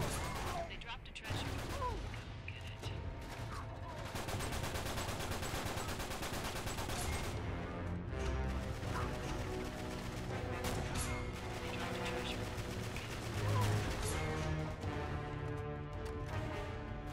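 Rapid M9 gunfire in Uncharted 3 multiplayer, a dense burst of shots packed together under loud, continuous game music and effects.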